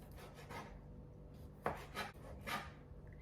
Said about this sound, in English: I'm slicing these in real thin slices